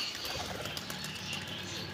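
A flurry of wings flapping as several pigeons are released and take off together, a steady papery fluttering that carries through the whole moment.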